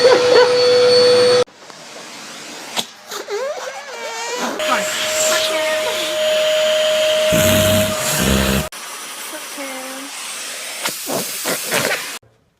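A vacuum cleaner hums and whines in a home while a dog reacts with yelps and barks, amid thumps and clatter; the machine starts and stops in bursts, loud and close.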